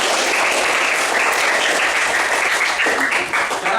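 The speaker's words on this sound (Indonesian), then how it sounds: "Tepuk tangan untuk kita semua." A fifth-grade class of children claps together in a loud, sustained round of applause that fills the room at a steady level before tapering slightly at the end.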